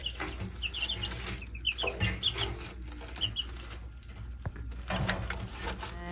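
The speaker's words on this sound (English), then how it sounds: "our chicks are 3 weeks old today" Three-week-old backyard chicks in their brooder give high, short cheeps and soft clucks in scattered bursts over a steady low background hum, close and fairly loud.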